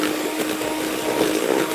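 An electric mixer beats softened butter and icing sugar for a chocolate cake, giving a steady close motor whirr with a faint steady whine and a slight wobbling churn throughout, with no talk.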